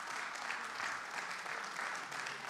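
An audience at a plenary session of a Nigerian economic summit claps, a steady even wash of applause that stays fairly distant and sustained throughout.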